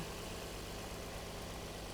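A car engine idles steadily after starting, a low, even hum with faint vibration running without a break, fairly quiet and heard alone.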